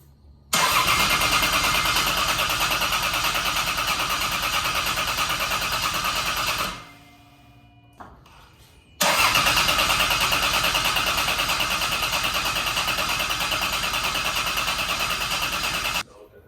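A turbocharged Lexus IS300 with a CT20 turbo cranks and fires, running loud and steady, then cuts out for about two seconds before catching again and running on strongly.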